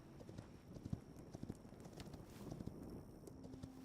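Horse hooves clip-clopping at a steady walking pace in the video game Hytale, faint and soft with light wind noise underneath.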